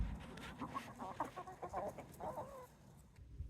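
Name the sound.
backyard chickens clucking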